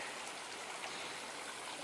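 A small creek in southwest Ohio rushes with strong runoff, giving a steady, dense water roar that stays even throughout, close and continuous with no talking.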